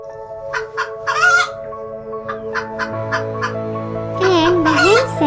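Hen clucking in a hen house, a run of short clucks and squawks with rising and falling calls near the end, loud and close over a soft background tone.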